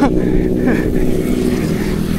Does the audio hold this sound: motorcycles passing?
yes